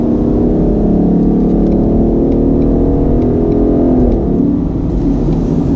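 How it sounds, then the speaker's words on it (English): Steady, loud low rumble of a 2019 Ford Mustang GT's 5-liter V8 with the Performance Pack, droning evenly at cruise, close and continuous with no one speaking. "I love the sound of that 5-liter underneath the hood. Nice rumble, but it's not too obnoxious,"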